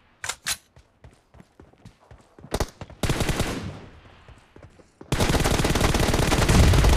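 Bursts of M4 assault rifle fire in a first-person shooter game, starting with several sharp separate shots, then sustained loud automatic volleys crackling on without pause.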